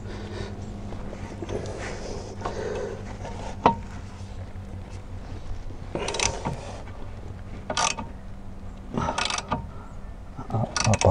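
A flat wrench turns a nut with scattered metallic clicks and scraping ratchet-like bursts, close and intermittent over a low background hum, without talking.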